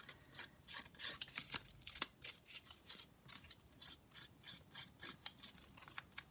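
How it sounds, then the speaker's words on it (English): Repeated crisp snipping and scraping of scissors working along paper edges, close and quiet, in an irregular rhythm of short strokes with no talking. "I just use my scissors here."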